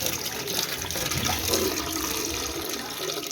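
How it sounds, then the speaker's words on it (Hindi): Tap water pours steadily into a bucket, a continuous broadband splashing rush that stays close and fairly loud throughout with no talk over it. "पानी भर लेंगे।"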